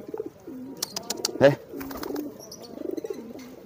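Racing pigeons kept in a coop coo nearby in repeated low, rolling calls, with wing flutters and scuffles mixed in and a brief spoken word from a man.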